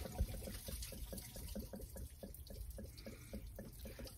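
Coolant gushes out of a loose lower radiator hose on a Chevrolet Tahoe, a steady, quiet splashing stream of liquid pouring and spattering with no talk.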